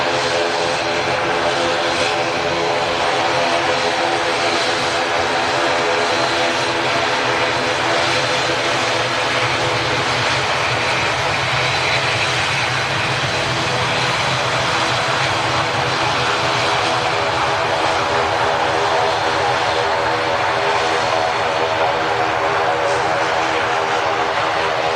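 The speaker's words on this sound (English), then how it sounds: "It's Aer Lingus heading back out to Belfast." Aer Lingus airliner departing for Belfast, a loud continuous engine roar with a droning propeller-like hum that holds steady and close throughout, with no talking.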